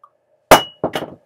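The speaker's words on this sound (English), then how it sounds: "I'm going to drop this bottle. It's made out of glass. I'm going to do a drop test" A VOSS glass water bottle hits a hard floor in a drop test with one sharp clang, then bounces twice with quicker, lighter knocks, loud and close without breaking.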